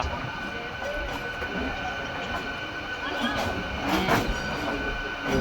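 Steady rolling rumble of a MEMU express train running toward Vijayawada, heard from on board with continuous wheel noise and faint clatter, a brief brighter swell near the end.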